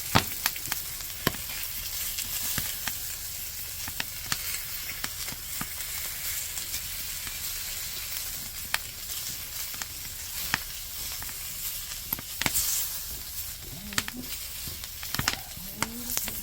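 Pork belly sizzles on a cast-iron cauldron-lid griddle over a burner outdoors with a steady hiss and frequent sharp pops of spitting fat, heard up close with no talking.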